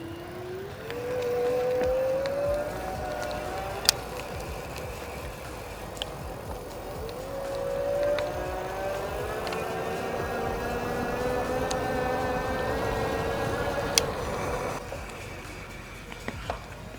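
An Aventon Soltera electric bike accelerates on throttle alone, its hub motor whining in a steadily rising tone that climbs in pitch twice, with faint clicks and road noise underneath.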